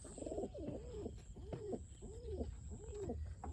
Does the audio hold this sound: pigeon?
yes